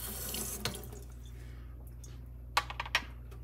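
Water trickling onto a razor honing stone during the 2K sharpening stage, a soft wet splash and drip over a steady low hum, with a few brief sharp ticks near the end.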